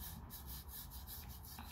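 A sander works the bottom of a ceramic greenware piece, making a soft, continuous abrasive rubbing with faint rhythmic strokes, quiet and close.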